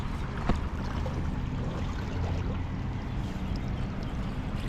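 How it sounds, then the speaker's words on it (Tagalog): A strong river current flows in a constant low, rushing wash with faint splashes and trickles, heard alone at a steady, moderate level. "Parang lumalakas ang agos, no?"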